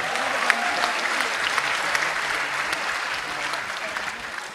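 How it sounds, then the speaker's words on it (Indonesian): A crowd at a political rally of young people claps steadily, dense applause with scattered sharper claps that holds at an even level throughout, fairly close and with no speech over it. "Tepuk tangan buat kita semua."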